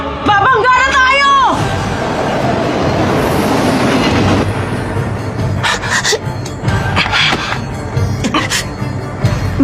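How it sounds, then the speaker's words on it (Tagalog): A train approaching head-on rumbles and clatters loudly nearby, its wheels squealing and clacking, while voices shout over the roar about an imminent collision. "Parating na yung isang tren!"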